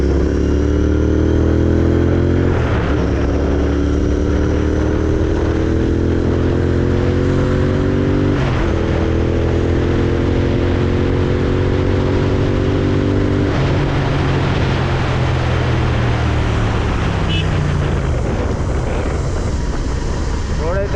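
A GT650 motorcycle rides at speed at night, its loud engine droning close with rising pitch through the gears and brief dips at each shift, wind rush underneath throughout.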